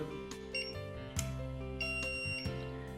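A ZKTeco access control machine gives a sustained electronic beep, a steady buzzing tone broken by several sharp clicks, close and clear with no talking.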